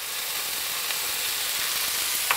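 Water spinach stir-frying with garlic in a hot pan: a steady, loud, hissing sizzle with faint crackles, continuous and close, no voices.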